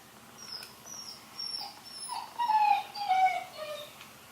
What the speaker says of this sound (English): I have to go get the puppy.